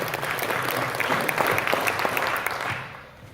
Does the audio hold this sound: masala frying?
no